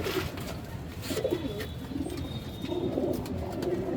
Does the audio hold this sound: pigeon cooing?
yes